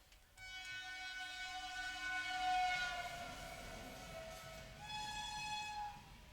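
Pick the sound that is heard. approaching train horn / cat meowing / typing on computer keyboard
approaching train horn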